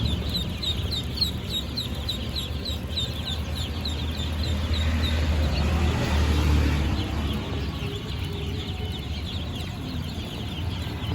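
A crowd of day-old Khaki Campbell ducklings peeps constantly, with many overlapping high chirps over a low background hum.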